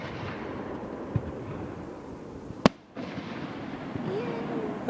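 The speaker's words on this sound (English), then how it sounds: "Just fireworks, you know." Fireworks at a seaside festival heard from a boat on the water: a few scattered distant bangs, one sharp loud burst standing out, over a continuous low background rumble.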